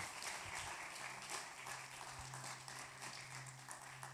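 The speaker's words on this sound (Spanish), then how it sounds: "¿Por qué no le damos un aplauso a Dios en esta mañana bien fuerte por esta palabra?" Congregation at a Spanish-language church service applauds in a thick, sustained wash of clapping over a low steady hum, continuing evenly from start to finish.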